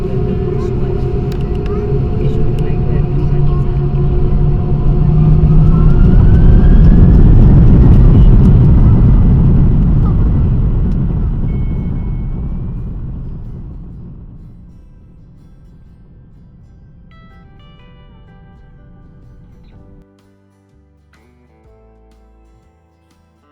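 A Qantas airliner accelerates down the runway for takeoff on a long-haul flight to Bangalore, heard from inside the cabin as a loud, building engine roar and rumble that peaks, then eases into a steadier drone before fading quieter.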